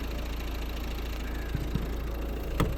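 A 1.6-litre D2 diesel engine in a 2012 Volvo V50 idles steadily with a low, even clatter and hum, close by and continuous, with a few brief knocks near the end and no talking.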